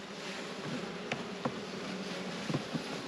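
Honey bees buzzing around an opened beehive in Australia, a dense, continuous close hum of many insects with a few brief louder passes, and no talking.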